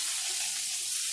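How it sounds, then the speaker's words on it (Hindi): Small fish shallow frying in a thin layer of oil, a steady dense sizzle filling the whole moment with no break, close and continuous with no voices. "इसीलिए ऐसे थोड़ा सा हल्का सा दबा दबा के फ्राई कर लेना है।"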